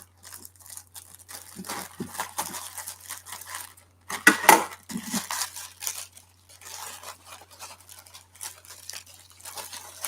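Scissors snip and cut open a mailed package, with crinkling packaging, taps and rustling handling sounds, close and intermittent, over a steady low hum.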